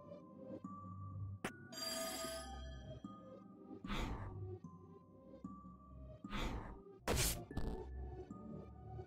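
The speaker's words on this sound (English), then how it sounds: "What was that sound like a ringing bell? I think it came from this odd device." Ringing from an odd teletrophone prototype device in the video game There Is No Game: a few sharp bell-like strikes and bright clangs, loud and close, with sighing tones and scattered knocks between them.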